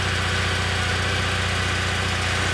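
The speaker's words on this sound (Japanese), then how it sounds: "ごめんなさい、エンジンを行かせてもらえますか。" A 2013 Kawasaki W800 motorcycle with an aftermarket muffler idles close by, a steady, even engine rumble and exhaust throb that holds without a break.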